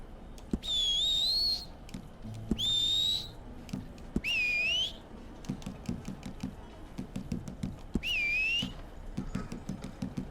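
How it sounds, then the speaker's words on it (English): A character in the video game Red Dead Online whistles a rising, looping tune, four short whistled phrases repeated with pauses, over soft tapping and clicking. "I did not like my guy's whistle."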